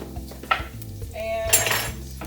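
Garlic going into a pot on the stove for an Indian sweet potato and lentil soup, with a couple of sharp clinks of a utensil against the pot over a steady low hum and a brief hiss.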